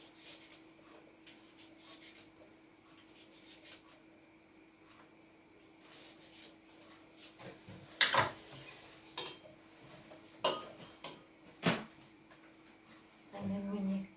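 A cucumber is peeled in sections and sliced on a kitchen board, with quiet scraping followed by a few sharp knife chops and clacks against the board, over a faint steady hum.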